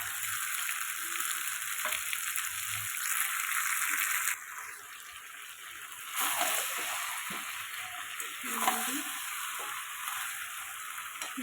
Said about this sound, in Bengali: মাংসটা দিয়ে দিয়েছি, ভালো করে কষিয়ে নেব।